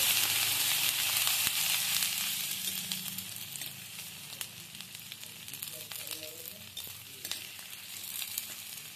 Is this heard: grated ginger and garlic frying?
yes